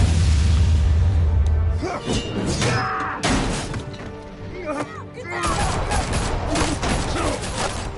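Rapid gunfire bursts and shattering crashes ring out in a PS4 video game, loud and chaotic with whooshes and impacts, while voices talk over parts of the mayhem.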